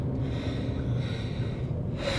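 Heavy, rapid breathing with gasps and snorts, close and steady as if after a long run, continuing throughout with no talk over it.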